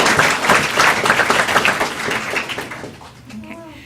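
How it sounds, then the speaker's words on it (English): A board of education meeting audience applauds students, a few seconds of close, lively clapping that tapers off as a voice begins to speak. "let's give a big round of applause for those students"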